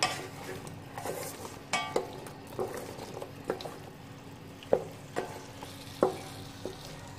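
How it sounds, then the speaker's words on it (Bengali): Taro and hilsa fish curry sautéing in a pan gives a low steady sizzle, broken by sharp scraping and knocking strokes of a spatula at irregular intervals, close and fairly loud. "এভাবে আমি কিছুক্ষণ কষিয়ে নেব এটা।"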